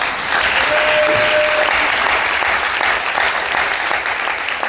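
A church congregation applauds loudly and steadily, dense clapping filling the whole stretch without pause, with a brief cheer rising early on.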